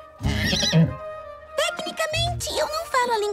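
A horse whinnies in the Spirit cartoon series, a loud, bright neigh that rises and trembles, with cartoon voices speaking around it.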